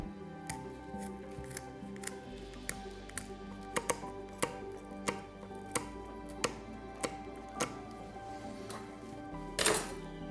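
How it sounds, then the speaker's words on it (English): A knife cuts the dorsal fin off a whole snapper on a board. Sharp clicks and snips repeat at irregular intervals, close and fairly faint, with no talk. "You can also take off this dorsal fin here."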